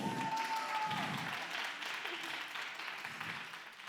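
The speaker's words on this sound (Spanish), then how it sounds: "¡Aplaudidme, familia!" Audience applause at the final of a science stand-up monologue contest in Córdoba, a broad steady clatter of many hands from the crowd, holding for several seconds and slowly thinning toward the end.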